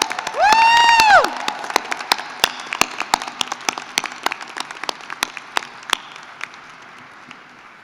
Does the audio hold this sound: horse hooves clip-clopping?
no